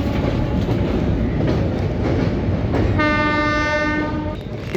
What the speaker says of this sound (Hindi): तो आप देखिए धीरे धीरे ट्रेन बढ़ रही है।